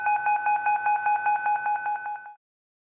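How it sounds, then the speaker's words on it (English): A rapid series of short electronic beeps from a cable tracer receiver near the tested cable repeats evenly for about two seconds, then cuts off into silence. "When the receiver is close to the cable being tested, it will emit a beeping alert."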